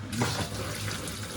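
Tap water pours steadily into a kitchen sink while food is washed, a continuous close splashing rush with no break.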